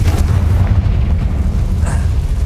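A Confringo fire spell detonates in Hogwarts Legacy on PS5, a loud, rumbling low boom that fills the short moment, with a faint higher burst near the end.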